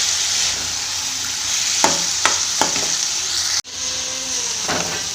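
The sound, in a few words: spinach and potatoes frying in a pan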